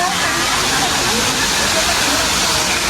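Sai Yok waterfall pours in a loud, unbroken rush of falling water, a dense hiss that fills the whole scene.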